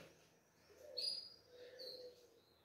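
A small songbird, a loose golinha (seedeater), sings soft, high chirps and short whistles, faint and distant against a quiet background.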